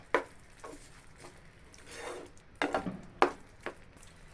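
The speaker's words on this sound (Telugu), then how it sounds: "ఈ బొప్పాయి హల్వాలో బెల్లం బాగా కలిసేలాగా కలుపుకోవాలి." Jaggery is stirred into papaya halwa in a pan. A spoon scrapes and squishes through the thick mixture with soft intermittent clinks and a few sharper taps on the pan, fairly quiet, with a faint sizzle underneath.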